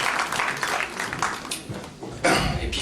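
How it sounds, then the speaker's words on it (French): Audience applause at a mayor's end-of-term farewell speech in Sevran, scattered claps rising and fading, with a louder burst of clapping near the end and some murmuring and a cough. "On peut applaudir"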